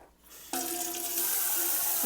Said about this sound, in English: put some water in it, approximately 2 cups,